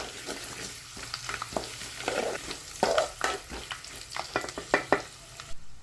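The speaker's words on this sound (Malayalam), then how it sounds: "പിന്നെ നമുക്ക് കുറച്ച് നേരത്തെ ഇതാക്കിയിട്ട് വെളുത്തുള്ളി അതും കൂടിയിട്ടൊന്ന് ജസ്റ്റ് ഒന്ന് വാടി കിട്ടിയാൽ മതി." Garlic sautéing in a pan for star gooseberry pickle: a close, steady sizzle broken by frequent scraping clicks and clinks as the spoon stirs, with no talking.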